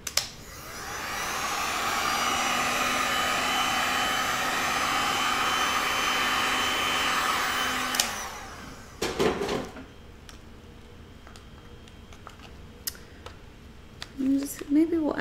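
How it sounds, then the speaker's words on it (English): A heat tool blasts hot air over a resin pour, a loud, steady whirring hiss lasting about eight seconds before cutting off, followed by clinks and rustling of containers with a voice speaking. "Let's put some heat on it and see what happens."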